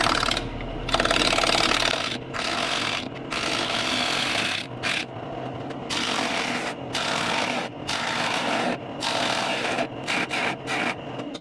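A wood lathe running at about 1,000 RPM turns a punky, nearly rotten bowl blank, giving a loud continuous rasping, rubbing scrape that breaks off in brief gaps as the tool is lifted and set back.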